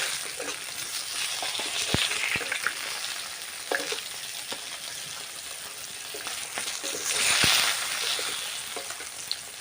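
Fish frying lightly in a pan of oil for a sour fish curry, a continuous close sizzle and crackle with scattered sharp pops and a couple of swelling hisses as pieces are turned.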